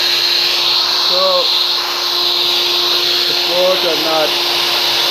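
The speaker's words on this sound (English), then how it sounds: "I'm watching my camera and drilling it." A freshly sharpened drill bit drills into metal in a workshop, a steady high whine from the drill running continuously, with brief spoken words over the machine noise.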